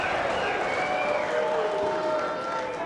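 A large arena crowd at the 2015 Mosconi Cup pool match, Team USA against Team Europe, reacting to a shot with a sustained wash of applause and cheering, loud and continuous throughout with no clear talk over it.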